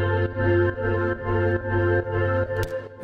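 A soloed chopped music sample run through TAL chorus and TAL filter plugins, repeating in steady sustained phrases with rich harmonic tones, alone with no voices.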